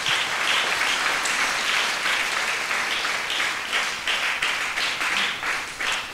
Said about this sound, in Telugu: మీరందరూ కూడా ఎంతో చప్పట్లు కొట్టండి.